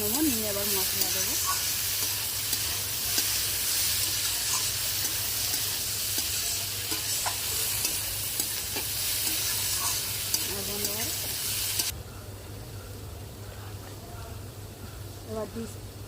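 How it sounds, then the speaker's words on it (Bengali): Tomato frying in a hot pan as it is stirred, with a steady loud sizzle throughout and a few scraping stirs; a voice speaks over it, and the sizzle drops a little in level near the end. "টমেটোটা দিয়ে এবার নেড়ে নেবো"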